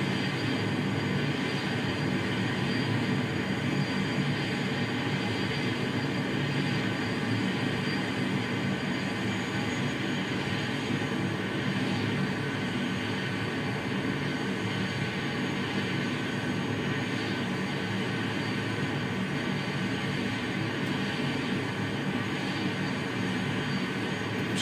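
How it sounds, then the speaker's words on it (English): Aircraft engines spooling up while waiting to take off, a dense, steady broadband roar that fills the whole stretch without a break, loud and continuous with no talk. "The other aircraft that's waiting to take off."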